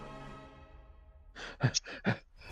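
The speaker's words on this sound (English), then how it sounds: "You can hear him like panting." A man in a played-back video pants hard after running, heard after a quiet, faintly humming stretch as four or five heavy, rhythmic breaths, close and fairly loud.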